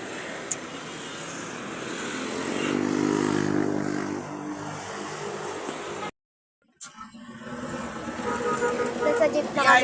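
A jeepney's engine drones while riding, swelling into a louder revving hum midway, then cutting out briefly before the rattling motor noise returns, with people talking over it.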